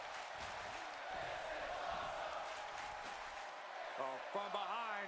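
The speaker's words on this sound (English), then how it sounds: "Crowd is loving it." A crowd cheers in the WWE 2K26 wrestling video game, a steady roar of noise with voices rising over it toward the end.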